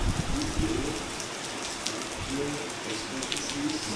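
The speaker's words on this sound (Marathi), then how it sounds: "जास्त आता पाऊस सुरू झालेला आहे." Heavy rain falling steadily and close, a dense even patter across the whole stretch, with a faint low voice murmuring underneath.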